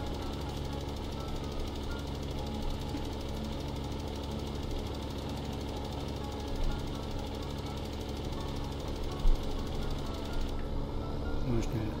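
Farm tractor engine droning steadily while fertilizing fields in Farming Simulator 2015, a constant low mechanical hum with faint rhythmic knocking and no clear breaks.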